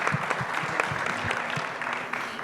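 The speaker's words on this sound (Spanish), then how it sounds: "un fuerte aplauso para Michael." A panel audience gives steady, moderately faint applause for a panelist, with dense overlapping claps that continue evenly throughout.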